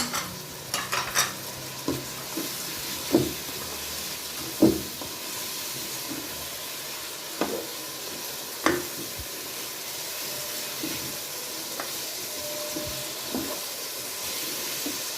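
Vegetables, spices and ground black pepper for satrangi pulao fry in a pan under a steady sizzle, with a spoon scraping and stirring in repeated knocks and scrapes.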